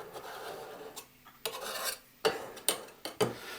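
Paint mix being stirred in a container, quiet scraping and rasping strokes with a few sharper knocks of the stirrer against the sides, close and alone.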